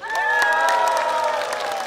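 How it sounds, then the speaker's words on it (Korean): A crowd at an open-air televised pop music show cheers loudly with sustained shouts and applause, a dense close roar that holds steady for about two seconds. "이 노래 좋아하시는 분들 큰 목소리와 박수로 한번 해주세요"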